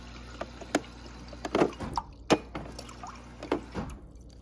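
Water runs from a refrigerator's water dispenser into a container, heard as close trickling with irregular splashes and drips over a low background hum.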